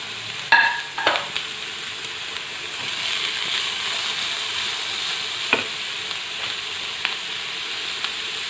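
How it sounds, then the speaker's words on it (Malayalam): Ginger, garlic, curry leaves and onion sauté in a pan for beef cutlets. A steady, close sizzle runs throughout, with occasional clinks and scrapes as they are stirred and no voices. "അപ്പോൾ ഞാൻ ഇഞ്ചിയും വെളുത്തുള്ളിയും കറിവേപ്പിലയും സവോളയും എല്ലാം കൂടി ഒരുമിച്ചിട്ടാണ് വഴറ്റുന്നത്."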